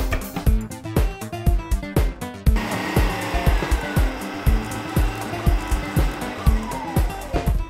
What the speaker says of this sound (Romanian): Bate albușurile cu un praf de sare.